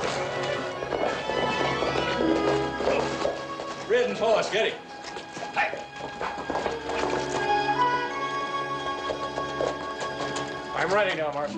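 A horse's hooves clip-clop at a run beneath dramatic orchestral music and the sounds of a Western shootout scene, partly masked by the score.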